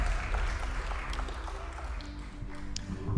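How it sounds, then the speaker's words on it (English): Audience applause at a digital inclusion conference, a steady wash of clapping that stays fairly quiet throughout with no speech. "Ladies and gentlemen, a round of applause as I bring Edgar Masatu onto the podium."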